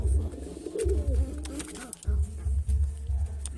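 Domestic pigeons at a pigeon dealer's in Brebes coo in low, throaty, repeated bursts close by, with a few faint clicks and rustles in between.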